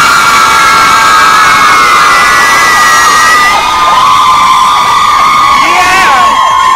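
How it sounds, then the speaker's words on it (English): A university dance competition team screams and cheers after winning, a loud, close crowd of high-pitched shrieks and whoops sustained throughout, swelling with fresh yells near the end. "So Darby, let me hear you scream!"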